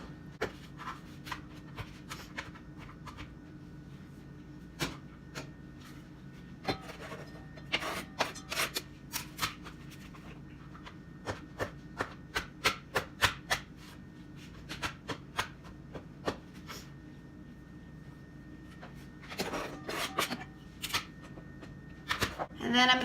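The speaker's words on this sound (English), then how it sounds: "These are already sliced, but I'm just gonna put them into a little bit smaller diced pieces." A knife dices pre-sliced mushrooms into small pieces on a cutting board, giving irregular bursts of quick tapping chops against a low background hum, with faint talk in places.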